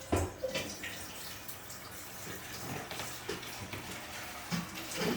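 Water is poured from a saucepan into a fish tank during cleaning, a soft, fairly faint splashing and gurgling stream with small surges, no talk over it.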